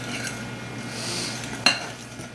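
Coconut pie batter made with self-rising flour is stirred in a bowl, a steady soft swishing with a faint utensil scrape, followed by a single sharp clink of metal against the bowl near the end.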